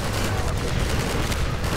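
A Strider firing in the Half-Life 2 video game, heard as a relentless dense barrage of rapid gunfire and heavy rumbling blasts that stays loud and continuous.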